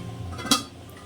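A metal lid clinks once onto a cooking pot holding rajma in a home kitchen, a single bright close clatter set against a low background hum.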